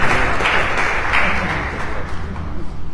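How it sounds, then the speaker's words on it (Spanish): Dense, steady audience applause fills a panel discussion on poetry, psychology and the brain. It is loud and close throughout, with no break. "un fuerte aplauso"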